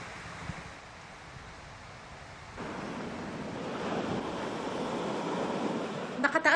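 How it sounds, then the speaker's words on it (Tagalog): Rough, high sea surf in stormy weather along the coast at Pagudpud, Ilocos Norte, a continuous roar of breaking waves that swells louder midway, mixed with gusting wind buffeting the microphone. "Mataas pa rin kasi ang mga alon dahil sa masamang panahon."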